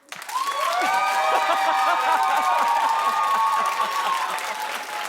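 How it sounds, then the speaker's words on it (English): Studio audience at a daytime talk show claps loudly with cheering voices and whoops layered over the applause, building quickly and holding strong before easing slightly. "Clap if you're not"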